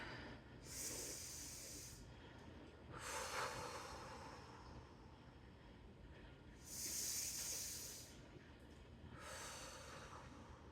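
Slow, deep breaths in and out during a stretching routine, four long airy hissing exhales and inhales spaced a couple of seconds apart, close to the mic and soft, with no talking.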